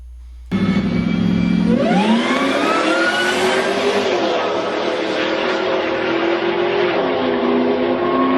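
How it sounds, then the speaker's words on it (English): A Whipple twin-screw supercharged Ford Lightning truck engine starts and revs up, its whine rising in pitch then holding a loud, steady high-pitched drone close by. "This video is of a Whipple twin screw supercharged Ford Lightning."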